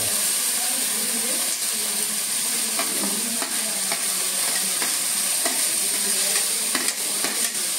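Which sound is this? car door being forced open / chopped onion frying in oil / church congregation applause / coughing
chopped onion frying in oil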